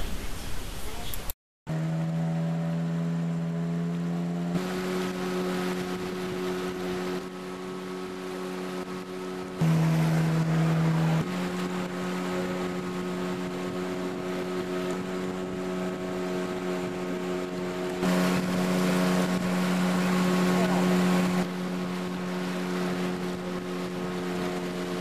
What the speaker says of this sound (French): nous partons avec la prochaine pirogue à moteur sur le Sangay Melinau